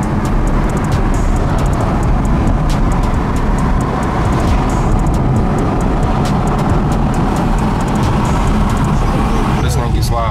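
An Audi R8 V10 with its exhaust valves open runs in its loudest setting, giving a loud, continuous, close-up roar that holds at full strength for about ten seconds.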